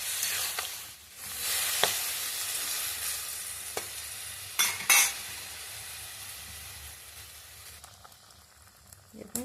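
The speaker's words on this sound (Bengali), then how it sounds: "দেখুন শুক্তোটা ফুটছে" Sukto, a Bengali mixed-vegetable curry, bubbling in a pan with water added, a continuous close hissing simmer broken by a few brief crackles and taps, fading softer toward the end.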